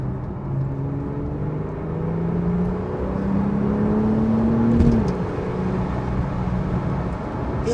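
A Porsche 911 Carrera 4S with PDK gearbox and 3.0 turbo engine pulls hard in sports mode, its muffled cabin engine tone climbing smoothly through a gear, dropping with a quick shift, then rising again under steady road rumble.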